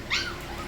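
Seven-week-old puppies whimpering, with one brief high thin whine rising over a steady background hiss, fairly faint and short.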